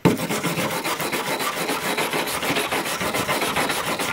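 A cheap metal wire brush scrubs back and forth over rusty patches on a van body, making a harsh, gritty rasp in quick, continuous strokes close by.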